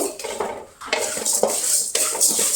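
Cardamom, star anise and other whole spices are dry roasted in a pan, stirred with a utensil that scrapes and clinks against the metal in quick, close, repeated strokes over a light rattle of seeds.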